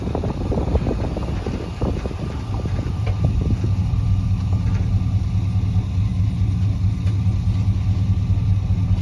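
A 1972 Chevrolet C10 pickup truck driving, its engine a loud, steady low rumble heard from inside the cab with wind noise and some rattling near the start.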